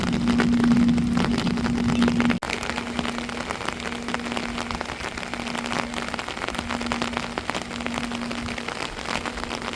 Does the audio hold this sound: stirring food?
no